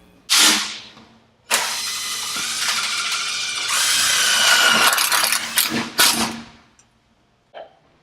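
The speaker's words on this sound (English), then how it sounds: "so I'm going to drill for extras." A power drill bores extra screw holes through a surface-mount continuous hinge on a stairway door, running in several sustained whining bursts separated by short pauses, close and loud with no talk.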